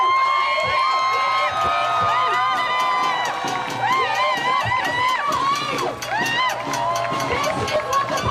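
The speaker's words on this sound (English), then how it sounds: "cheer." A protest crowd in New York demanding food aid for Gaza cheers and whoops loudly, many voices rising and falling together in sustained shouting.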